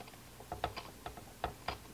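Soft mechanical clicks from the clock mechanism of a mid-1960s Zenith transistor clock radio under repair, about six faint ticks spaced irregularly over low hiss.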